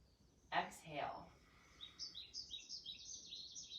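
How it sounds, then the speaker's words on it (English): Small birds chirp within soft yoga background music, a faint opening call followed by a quick series of high, bright tweets repeating in a steady rhythm, quiet and distant. "it sounds nice to hear birds chirping in the music"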